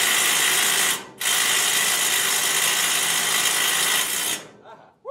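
A power screwdriver drives a bolt into a lawn wagon's ball coupler: a loud, steady, buzzing whir for about four seconds, with one brief stop about one second in, then it winds down at the end.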